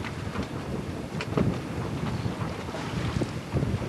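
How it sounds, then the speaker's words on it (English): Wind gusting across a barren, treeless Caribbean shore, a steady close rumbling rush buffeting the microphone with a few stronger gusts, and no one speaking. "here's the wind"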